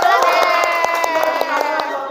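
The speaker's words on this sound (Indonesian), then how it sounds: "Tepuk tangan buat kelas" Schoolchildren in a ninth-grade classroom clap and cheer together, a brief, dense burst of rapid hand claps mixed with excited young voices that carries steadily for a couple of seconds.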